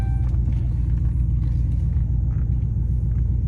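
An OBS Chevy truck engine idles nearby with a steady, loud, low rumble that holds even throughout, with no talk over it.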